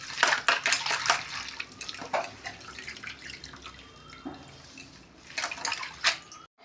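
Thankuni (Centella) leaves rinsed clean of sand in water, with intermittent splashes, sloshing and drips as the leaves are swished and handled, fairly close.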